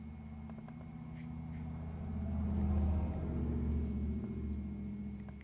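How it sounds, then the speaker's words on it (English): A truck drives past a house heard through open windows, a low engine rumble swelling to a peak midway and then slowly fading. "So we have a nice truck going by the house."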